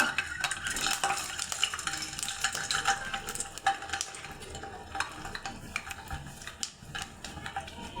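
An egg fries in oil in a pan, with a steady close sizzle mixed with clinks and scrapes of a spatula stirring against the metal, and nobody speaking.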